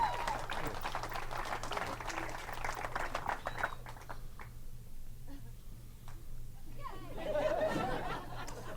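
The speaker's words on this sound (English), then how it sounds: "You guys stopped clapping so quick." Audience applause at a live podcast taping, a dense burst of clapping that thins out and stops after a few seconds, with murmured chatter and talking around it.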